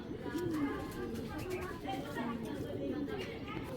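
Racing pigeons coo softly in a loft, several low, rolling calls repeating nearby while someone talks over them throughout.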